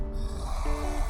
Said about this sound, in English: my papa is congested and he's snoring